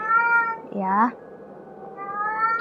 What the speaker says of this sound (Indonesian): Ini teriak-teriak. Biasa, kucing jantan ya.